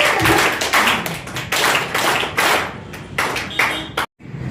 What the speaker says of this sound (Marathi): सर्वांनी जोरात टाळ्या वाजवा.